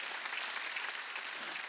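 A church congregation at a Wednesday worship service claps in a brief, dense burst of applause that stays even and close throughout.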